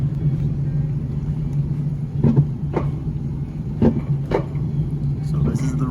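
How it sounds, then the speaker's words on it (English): A roller coaster climbs its lift hill at an amusement ride in Helen, Georgia. A steady low mechanical drone runs throughout, broken by a few evenly spaced clanks from the climbing train. "this is more or less the view of the roller coaster as it's going up, and I'll show you a little bit of what it sounds like"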